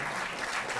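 A dense burst of crowd clapping at a ceremony honouring athletes in Delhi, steady and fairly loud throughout the short stretch.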